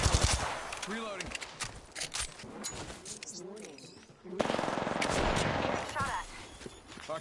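Gunfire in the battle royale video game Apex Legends: rapid bursts of automatic shots and scattered single cracks, loud and close, mixed with game effects and a voice talking over them.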